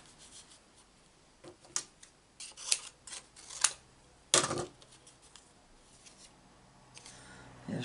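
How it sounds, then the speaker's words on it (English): Scissors cut a paper oval from card scrap during a stamping craft project, giving a series of close, crisp snips and paper rustles in irregular bursts with quiet gaps. "now we need to cut this oval out of this scrap"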